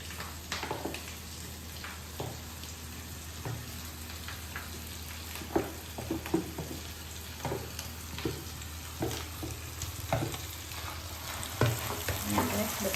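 Mashed potato frying in oil with turmeric crackles and sizzles steadily, with repeated scraping and stirring knocks scattered across the whole stretch and no voices.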